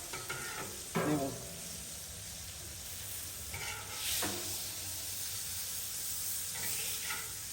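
Italian-seasoned chicken sizzles on a Blackstone flat-top griddle with a steady high hiss, broken by a few scraping stirs or flips of the meat at intervals.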